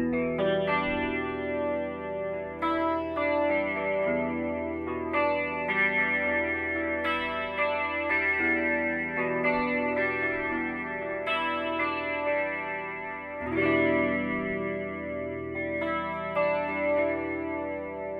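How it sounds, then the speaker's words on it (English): An electric guitar plays chords through an Arion Chorus Vibe pedal at slow speed and high depth. Repeated strums give a deep, slowly undulating shimmer that holds at an even level throughout, with no talking. "Got that slow speed with a high depth setting."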